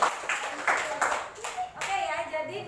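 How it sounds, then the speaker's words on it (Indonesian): A classroom group claps in short uneven bursts at a university teacher-training session. The clapping is close and mixed with a few children's or students' voices. "Oke, boleh kasih tepuk tangan?"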